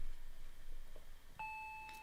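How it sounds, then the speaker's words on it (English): An electronic doorbell in the Higurashi visual novel rings faintly twice over a soft background hum, each a clear sustained tone. "The doorbell rang again as to urge me on."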